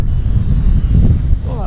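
Strong gusty wind buffets the microphone on an exposed outdoor route, a loud low roaring rumble that swells and dips throughout, with a brief voice near the end.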